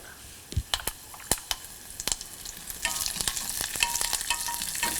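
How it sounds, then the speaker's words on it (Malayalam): Sizzling oil crackles and pops in a pan as curry leaves are stirred, with scattered sharp spits and a steady frying hiss building toward the end. "ഇതിലോട്ട് 1 തണ്ട് കറിവേപ്പിലയിട്ട് വഴറ്റുക"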